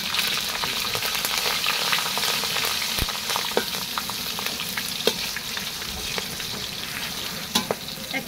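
Dried chillies, green chillies, cumin and coriander frying in hot oil, a steady loud sizzle throughout with scattered crackles and pops and occasional scrapes of stirring, no voices.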